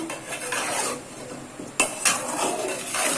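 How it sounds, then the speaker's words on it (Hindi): A metal spoon stirs potatoes into fried biryani masala in a pot, giving steady scraping and clinking with a soft sizzle beneath and a couple of sharper knocks against the pot. "ये देखें आलू डाल के भी मैं इसको अच्छे से चम्मच चला लूंगी"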